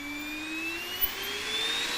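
Electric motor of an RC helicopter soft starting: a thin rising whine climbs slowly in pitch with higher harmonics, steady and moderately loud, with no talking.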